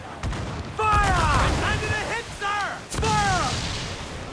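Incoming gunfire and artillery rumble in a combat video game, heavy booms and bursts landing under loud, excited shouting voices.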